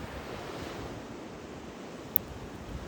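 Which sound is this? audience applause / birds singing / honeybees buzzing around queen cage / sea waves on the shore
sea waves on the shore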